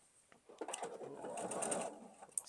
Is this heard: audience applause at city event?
no